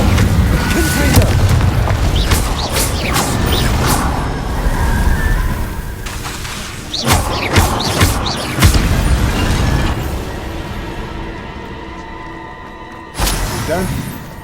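Confringo fire-blast spells from Hogwarts Legacy explode repeatedly in booming bursts with crackling debris and shattering, loud and close over continuous game sound, with a final blast near the end.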